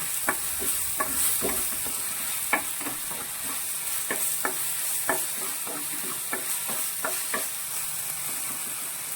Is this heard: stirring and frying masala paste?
yes